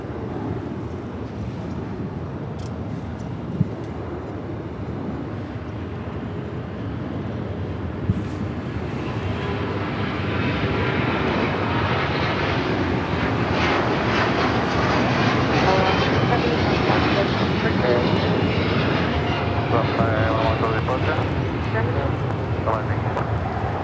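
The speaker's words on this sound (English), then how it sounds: "This is LL Flight 6 taking off to Tel Aviv on the 787-9 Dreamliner in the retro livery" A Boeing 787-9 Dreamliner takes off at LAX, its engine roar building from a distant rumble into a loud, broad sustained thrust as it passes, with people talking in the background.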